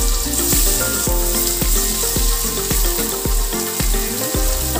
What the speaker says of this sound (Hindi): प्याज को थोड़ी देर तक भून लेंगे